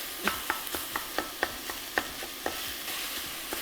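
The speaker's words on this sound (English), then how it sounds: "you want to brown the sausage until you don't see any more of the soft pink. Stirring and stabbing while you brown it" Sausage browning in a pot, with a spoon stabbing and stirring through it, giving a steady close sizzle broken by about a dozen sharp scraping clicks at an uneven pace.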